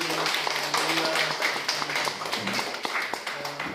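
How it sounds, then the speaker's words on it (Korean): Church congregation clapping at a founding anniversary worship service, a continuous patter of many hands with scattered sharper claps, while voices murmur and call out over it. "하나님께 영광되는 박수를"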